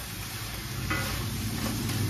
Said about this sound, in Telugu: పీతలు ఈ ఆయిల్లో కొంచెంసేపు మగ్గనివ్వాలండి.